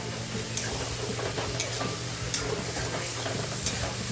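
Garam masala stirring and frying in a pan for green peas pulao, a steady close sizzle broken by the scrape and clack of a spoon against the pan several times.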